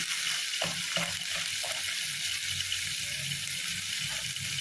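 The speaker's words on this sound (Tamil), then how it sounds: "இப்போ இதையும் நல்லா வதக்கிப்போம்." Carrot, onion, coriander and curry leaves sautéing in a pan, a steady close sizzle throughout with occasional soft scraping of a spoon.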